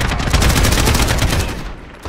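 An AK-47 fires in sustained rapid bursts in the video game Call of Duty 2019, loud and close, the rattling shots running steadily before tapering off near the end.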